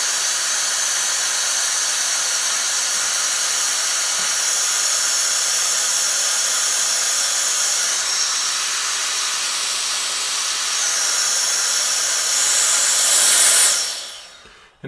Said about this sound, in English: We'll just blow it with the fan